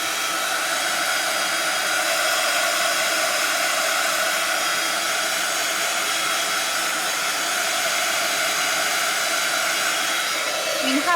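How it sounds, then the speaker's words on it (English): A handheld heat tool blows hot air over a wet art journal page, a loud steady whooshing roar that holds unbroken and close throughout. "so let's grab our heat tool. And let's dry this off."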